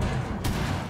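Gunfire in a multiplayer shooter video game: a short, loud burst of shots with one sharp crack in the middle, heard up close in under a second with no talk.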